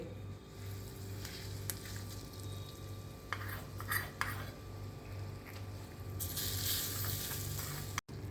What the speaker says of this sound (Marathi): मी आता ही फोडणी डाळीवर ओतते